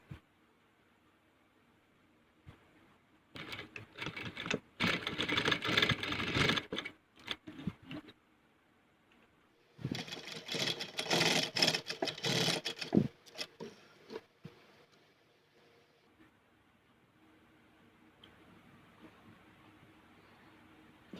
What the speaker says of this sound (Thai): จับริมผ้าตรงนี้ให้เสมอกันแล้วก็เย็บได้เลย